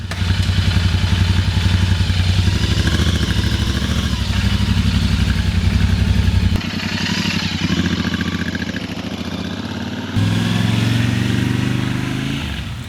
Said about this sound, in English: Here, I'm just giving a little bit of rev of the engine so we can hear that.